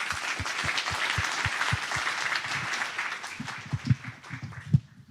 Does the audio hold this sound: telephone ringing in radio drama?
no